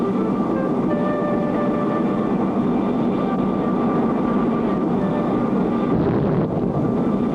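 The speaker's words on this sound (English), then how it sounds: "Andy Anderson, backyard aircraft designer, tensely watches his latest creation" A homemade backyard aircraft on a test flight, heard as a loud, steady droning engine hum with faint tonal whine, continuous and close throughout, from an old cartoon.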